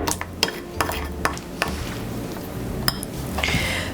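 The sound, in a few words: stirring a mixture with a spoon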